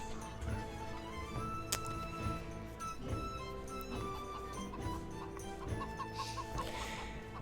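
Chickens clucking in a video game chicken arena, repeated short clucks and squawks scattered across a busy, steady game soundscape with occasional sharp clicks and chimes.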